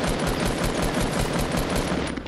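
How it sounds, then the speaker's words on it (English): Rapid automatic gunfire from a video game rattles nonstop in a dense, loud burst for about two seconds, with no talk over it. "I'm getting shot from behind as well."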